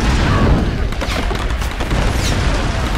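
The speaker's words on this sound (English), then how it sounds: "Why are they shooting at me?" Enemies keep firing at the player in the Tomb Raider video game, a loud, dense barrage of overlapping shots and booms that runs without pause.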